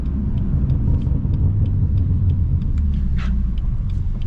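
A BMW M4 F82 with lowering springs idles nearby, a deep steady engine rumble that holds constant and loud, with faint higher clicks over the drone.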